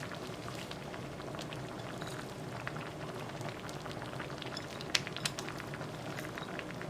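Perilla seed and tofu soup bubbling steadily in a pot, a continuous low simmering hiss with scattered pops and a couple of sharper clicks, close and moderately quiet, with no talking.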